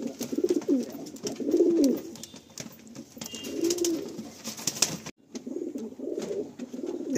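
Madrasi pigeons at a sale in Baruipur coo in repeated soft, throaty phrases, close by and clear, with quiet background noise between calls.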